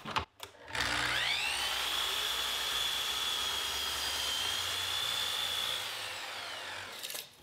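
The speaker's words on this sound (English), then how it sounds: "I'll use the miter saw to trim the piece at the top." A miter saw spins up and cuts steadily through a piece of wood for several seconds, a loud sustained whine that winds down at the end, with no voices.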